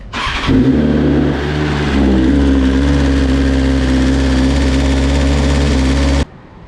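A 2020 BMW S1000 RR motorcycle engine cranks and catches, then runs at a steady, loud idle for several seconds before abruptly stopping.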